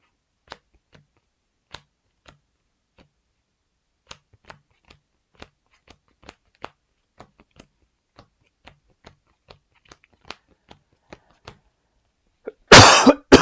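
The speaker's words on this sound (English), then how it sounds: "Sorry for the coughing." A person coughs in a short, loud burst close to a microphone at the very end, after a long stretch of sparse, light ticks and clicks from a tabletop Marvel Champions card game session.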